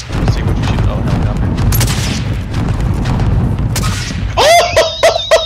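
Bursts of video-game gunfire crackle over steady background noise, with a louder rapid cluster near the end as a player's voice talks between shots.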